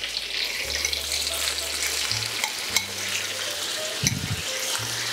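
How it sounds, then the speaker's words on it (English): Honey and soy glaze sizzles steadily in a hot pan with salmon fillets, a continuous bright frying hiss broken by a few soft stirring and scraping knocks, close and without talk. "And now I'll add the honey and soya glaze."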